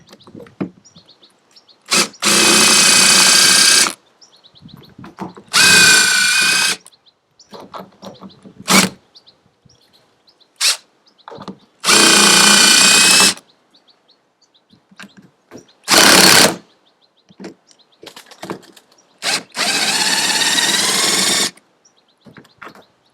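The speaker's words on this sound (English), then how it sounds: "I recommend maybe using a drill or an impact driver just to get them out" A power drill whirs in several separate bursts of a few seconds each, loud and close, with quiet gaps and small clicks between runs, removing large screws from a junkyard sailboat deck.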